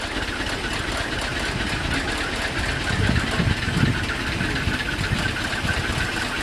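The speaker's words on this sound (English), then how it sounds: "The noise you can hear here is an old fire engine." An old fire engine idles steadily with a low, rumbling, slightly knocking drone that continues evenly throughout.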